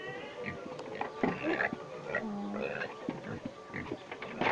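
Pigs grunting near a farmyard feeding spot, a run of short low oinks and snorts mixed with other animal and outdoor noise, with a voice faintly present.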